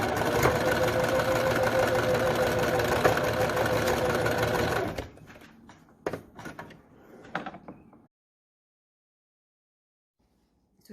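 Sewing machine stitching a short seam on a fabric face mask, a fast, steady, close whirr for about five seconds, followed by a few quiet handling clicks and then silence.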